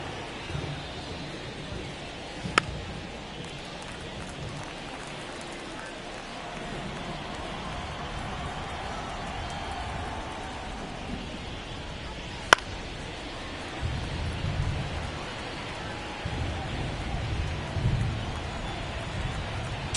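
Steady rain falls during a simulated Phillies vs Mets baseball game in MLB The Show 24, a constant hiss across the whole stretch with faint crowd murmur and a couple of sharp clicks.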